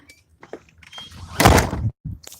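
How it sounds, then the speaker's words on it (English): An indoor door swings shut with a fairly loud thud and rattle close by, after quieter rustling and shuffling, with a brief knock following. "close the door, as you can see"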